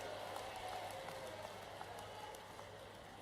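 A crowd at a government outreach rally in Madhya Pradesh claps on a politician's prompt, a soft, fairly distant patter of applause that stays steady throughout.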